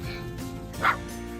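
A single short dog bark rings out at a dog park in Kawagoe, Japan, rising briefly over a steady low background murmur.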